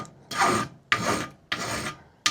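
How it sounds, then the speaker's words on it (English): Hand file rasping on a metal fuel tank, four long, even strokes with short pauses between, close and clear with no talk. "Just filing away."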